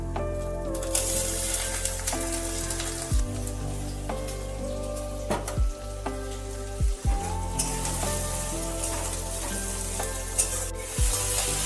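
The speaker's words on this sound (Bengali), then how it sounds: "রসুন আর পেঁয়াজটাকে একটু ভাজা ভাজা করতে হবে।" Thinly sliced onions and garlic fry in a pan, giving a steady, close sizzle throughout with a few soft knocks from stirring.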